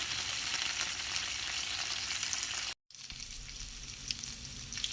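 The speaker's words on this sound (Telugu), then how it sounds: "ఇలా ఉల్లిపాయలను బాగా ఫ్రై చేసుకోవాలి" Onions and curry leaves fry in a pan with a steady, close sizzle that runs almost unbroken, dropping out for a moment midway before resuming just as dense.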